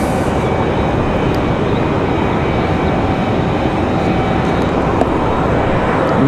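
An American Airlines Boeing 737 jet passes at Raleigh-Durham airport, producing a loud, continuous, even roar with no break across the whole stretch.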